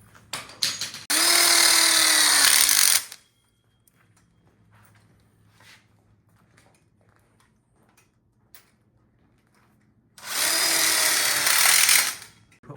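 A power drill drives a screw to fasten a tube into a telescoping outdoor kitchen grill module, in two loud, close bursts of about two seconds each, separated by quiet with faint handling noises.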